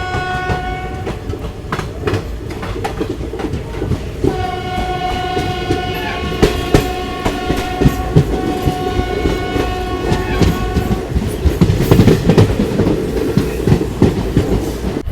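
Jhansi Kanpur special train at a small railway station: loud continuous rumble and clickety-clack of wheels, with repeated horn blasts sounding through the middle and later stretches, no talking.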